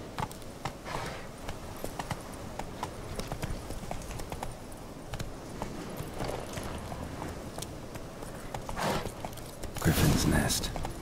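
Horse hooves clip-clop at a steady walking pace in the video game Witcher 3, fairly faint with a brief louder scuffle near the end, while a voice talks over them.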